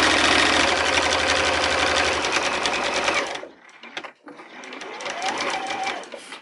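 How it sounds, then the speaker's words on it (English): A sewing machine stitching fabric runs in a fast, even mechanical whir for about three seconds, stops briefly, then starts again more softly, close to the listener. "Now we go back a couple stitches to really reinforce that corner and then forward again."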